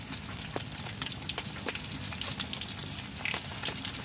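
Chicken pieces fry in hot oil in a pan, giving a steady, dense sizzle with small crackling pops throughout and no talking.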